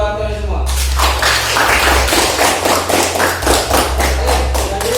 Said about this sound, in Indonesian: Oke, tepuk tangan buat kalian semua.